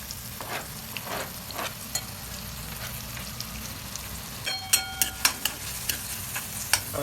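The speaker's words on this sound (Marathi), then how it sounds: "कढईमध्ये तेल टाकलंय. तेल चांगलं तापलंय. बघा, त्याच्यामध्ये कांदा टाकून द्यायचा." Onion goes into hot oil in a wok and fries with a constant soft sizzle, while a spatula stirs and scrapes in a series of sharp, regular clicks toward the end.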